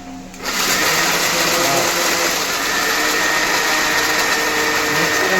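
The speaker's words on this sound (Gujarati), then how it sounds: "આગળ મિક્સર ચાલુ થઈ જાય છે અમારે." A mixer grinder starts abruptly and runs with a loud, close, steady whirring roar as broken bhakri pieces are ground for churma ladoos, holding constant to the end with no talk.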